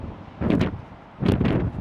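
Two strong gusts of outdoor wind buffet the microphone in separate low roaring bursts, each about half a second long, with quieter wind noise between them.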